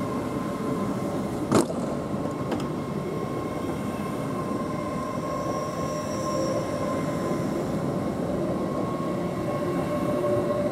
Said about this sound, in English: Okay, both trains departing.